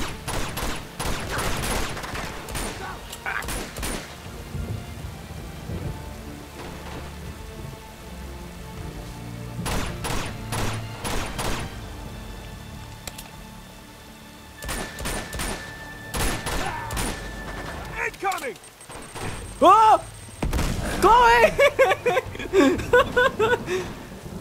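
Enemy sniper gunfire in Uncharted 2, sharp loud cracks arriving in scattered clusters over a steady rain-like ambience, with occasional talk between shots.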